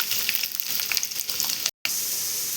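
Onions dropped into hot oil in a pan for paneer curry, a loud, dense, close sizzle and crackle that continues steadily, broken only by a brief dropout, with no talking.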